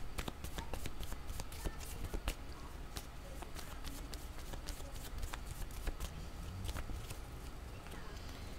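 Tarot cards being shuffled by hand, a faint, close rapid flicking and riffling with repeated sharp card snaps spread across the whole stretch.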